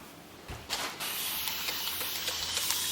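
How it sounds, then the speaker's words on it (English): A few quick spritzes of water from a spray bottle onto alligator hide, then a steady close hiss of spraying that continues to the end. "Spraying a little bit of water on here."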